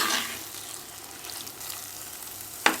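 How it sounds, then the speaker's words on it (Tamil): Masala and tomato sizzle gently in hot oil for a Kerala-style egg roast, a soft steady frying hiss with a sharp clink of a utensil against the pan near the end. "இப்போ இதில் இந்த ஆயில் வெளியில் செப்பரேட் ஆகிற வரைக்கும் நம்ம வந்து இதை நல்லா வதக்கிட்டு"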